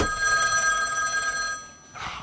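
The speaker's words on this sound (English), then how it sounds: "just let the phone ring for a second" A telephone bell rings steadily at a Halloween after-party live show, a bright sustained trill that holds for about a second and a half, then breaks off briefly before starting again.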